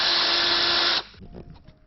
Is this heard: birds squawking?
no